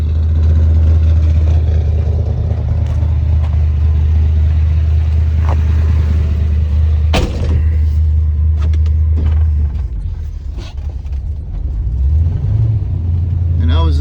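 A 1977 El Camino V8 with a big camshaft idles steadily, a loud low rumble that stays constant, briefly dipping around the middle before settling back, with a few clicks and knocks over the top.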